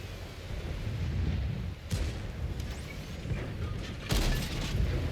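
A tank cannon in World of Tanks: Console fires two loud booms a couple of seconds apart over a steady rumbling engine and battlefield ambience, with no talk.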